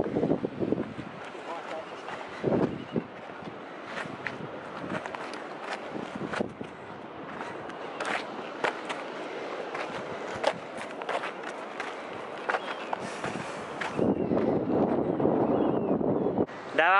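Strong wind on a beach in San Francisco, California buffets the microphone in loud, rumbling gusts throughout, with someone talking loudly over it.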